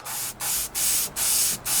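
An airbrush blasts paint out through its needle end while a 1/48 scale HobbyBoss F-14D Super Tomcat model is being painted. Five short, loud hissing bursts are separated by brief gaps, with no talk.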